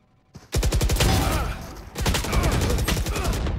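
Rapid gunshots from the video game Valorant come in two loud, close bursts of automatic fire, each a fast rhythmic string of sharp cracks, separated by a brief gap.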